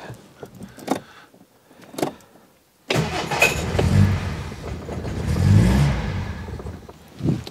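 A Reliant Fox car engine cranks and then runs cold on choke, first with a few sputters and clunks, then a sudden steady, rough idle with rising revs, heard close up.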